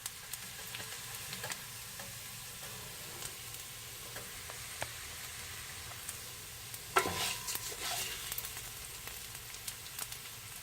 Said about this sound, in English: you just continue to let this fry until you start seeing the color change to a really pretty